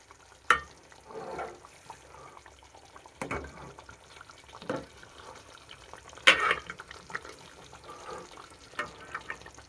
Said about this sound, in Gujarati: હવે આપણે સેજ અને નીચેથી હવે આપણે હલાવી નાખશું સેજ.